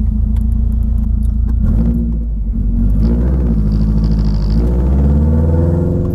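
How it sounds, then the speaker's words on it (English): A Subaru WRX with a straight-pipe exhaust rumbles loudly and deeply close by, its engine tone rising and shifting as it revs, with no voices. "I need to hear my straight pipe again."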